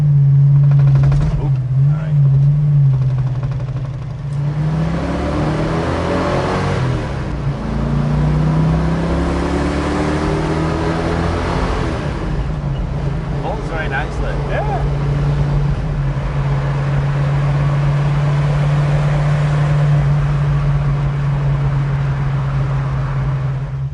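A Ford Shelby Mustang GT350 cruises in fifth gear on a freeway, a steady low engine drone with road and wind noise that swells and eases slightly over a long stretch, close and continuous, with someone talking over it.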